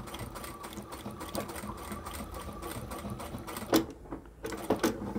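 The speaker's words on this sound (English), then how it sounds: "move this top layer of fabric out of the way and sew up along the side here" A sewing machine runs steadily, stitching through layers of quilted fabric for a simple handbag, with a close, even mechanical whirr and rapid ticking that halts briefly before starting up again.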